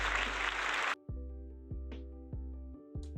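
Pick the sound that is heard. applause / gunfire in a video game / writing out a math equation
applause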